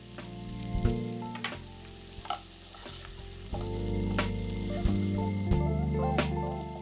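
Bell peppers with salt sauté and sizzle in a pan over an onion base, a continuous close frying crackle punctuated by clacks and scrapes of stirring.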